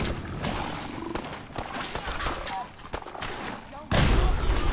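Gunfire in the video game Fallout 4, Far Harbor: dense bursts of shots and booming blasts over a steady game din, growing louder near the end, with no clear talk.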